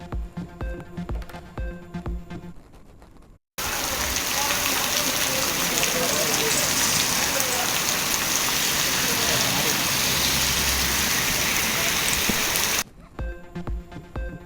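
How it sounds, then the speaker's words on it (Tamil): Steady heavy rain falls in Tamil Nadu, a dense continuous hiss and patter lasting several seconds, with talk and music before and after it. "தமிழ்நாட்டின் பல்வேறு பகுதிகளில் பரவலாக மழை."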